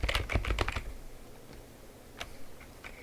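Typing on a computer keyboard while working in the Hello Neighbor Mod Kit, a quick burst of close key clicks followed by a few scattered taps against quiet room tone.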